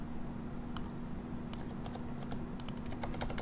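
Continuous typing of JavaScript code on a computer keyboard, with a steady patter of key clicks and a few sharper, louder taps standing out above a constant low hum.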